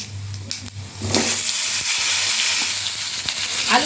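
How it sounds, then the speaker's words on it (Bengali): Cut potatoes tumble into hot oil left from frying Ayala fish, already seasoned with whole spices, setting off a sudden loud, steady sizzle that continues near and close after a few quieter crackles. "মাছ ভাজা তেলের মধ্যেই আমি গোটা মশলা দিয়ে দিয়েছি এবার আমি দিয়ে দেবো কেটে রাখা আলু"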